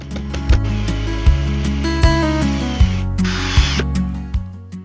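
A power drill whirs in repeated bursts, about six short pulses with brief pauses, close and loud, driving screws into pilot holes in scrap wood.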